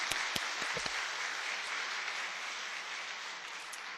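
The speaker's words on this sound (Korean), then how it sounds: "우리 모든 우리 교회를 위해 애쓰시는 분들을 향해서 한번 우리 격려의 박수로." A church congregation applauds its volunteers with steady, moderately loud clapping, a few sharper individual claps standing out early on, no speech over it.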